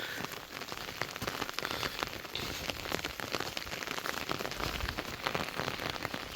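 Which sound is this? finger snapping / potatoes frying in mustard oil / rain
rain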